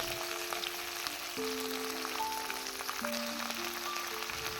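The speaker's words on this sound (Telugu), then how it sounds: "ఇప్పుడు మంచిగా శుభ్రంగా కడిగి పెట్టుకున్న చికెన్ని కూడా ఆయిల్లో వేసేసుకోవాలి" Washed chicken frying in hot oil in a pan, making a steady broad sizzle throughout, with faint tonal background hums and occasional light stirring.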